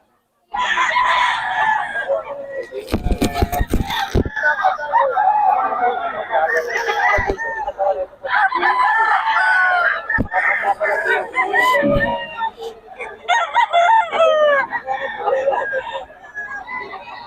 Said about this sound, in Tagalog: mga manok ni Tatay Tony